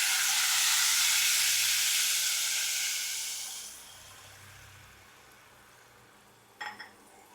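Loud, steady sizzling of tamarind water hitting a hot pan while making puliyodharai, fading to a quieter simmer, with a brief clatter near the end.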